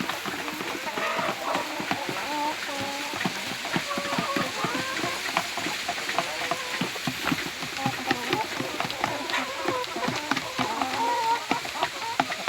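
Home-raised laying hens cluck steadily and close by while feeding, with soft pecking and shuffling sounds under a voice speaking now and then.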